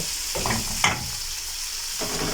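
Prawns fry in a pan with a steady, bright sizzling hiss throughout, broken by a few soft scrapes and stirs of a utensil against the pan.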